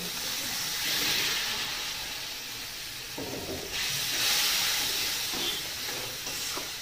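Spice paste frying in a pan with a little water added for a Bengali vegetarian shukto, a hissing, steamy sizzle that swells and eases in waves, close up with no voices.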